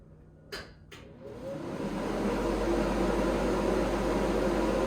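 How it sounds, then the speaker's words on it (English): A kitchen range hood fan in a newly built home switches on after a couple of clicks and spins up into a loud, steady whooshing hum that keeps running. "you want to make sure you turn your range hood fan on. I'll turn it on for a second, but it may be pretty loud."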